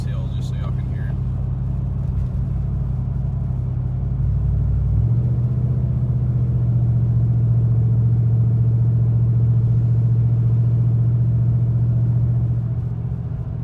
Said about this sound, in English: I'll make it downshift one time going up this hill just so y'all can hear it